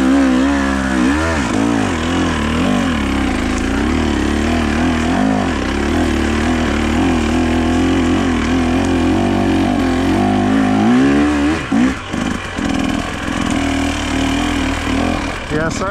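A two-stroke dirt bike fitted with an oversized power valve cover is ridden over technical terrain, its engine buzzing loud and close with repeated rising and falling revs as it lugs and accelerates, and a voice speaks over it.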